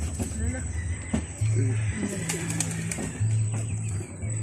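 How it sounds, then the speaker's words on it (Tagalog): Low, repeated pigeon coos rumble in short phrases, with a person talking nearby and some background bustle. "Ito yung mga kalapati nila guys"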